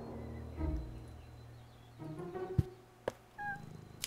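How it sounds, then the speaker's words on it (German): A cat in the video game Deponia meows a few times, short tonal cries spaced across a quiet background with a couple of soft thunks in between. "Katze auf der Tastatur."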